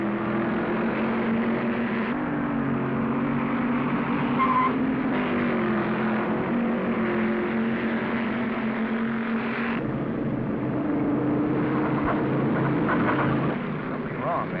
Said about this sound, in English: Randall and Conroy racing hub to hub